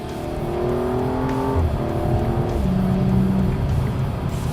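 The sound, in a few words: car accelerating with fast automatic gear shifts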